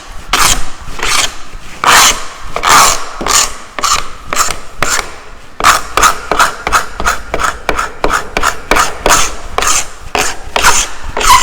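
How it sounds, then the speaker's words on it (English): Dried glue being scraped off a small wooden tabletop, a series of loud, close, rasping strokes with a quick irregular rhythm that grows faster toward the end, with no voices. "So we got the majority of the glue scraped off."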